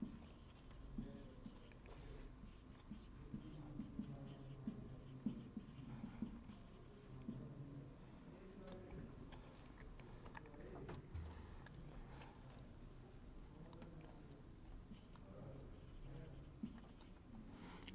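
Pen scratches steadily across paper while a trigonometry question is written out, a faint, continuous rustle of strokes and small ticks lasting throughout, with soft room noise behind.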